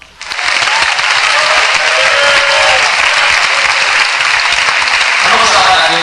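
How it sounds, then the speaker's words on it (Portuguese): A church congregation claps loudly and continuously in praise, a dense wall of rhythmic hand claps with voices mixed in from the crowd. "Pode louvar a Deus com as palmas."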